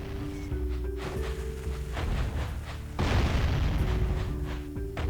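Bombs exploding in the video game Jak and Daxter, a series of heavy booming blasts about once a second over a droning game soundtrack, the loudest burst landing near the end, with no speech.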